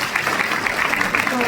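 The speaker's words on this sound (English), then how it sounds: "Big round of applause" A crowd applauds new Australian citizens at a council citizenship ceremony: a steady, dense wash of clapping throughout, with voices mixed in.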